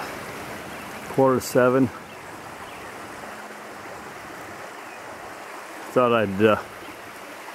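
Creek water flows in a steady, even rush outdoors on a walk to a fishing hole, continuous and fairly close, while someone speaks briefly twice over it.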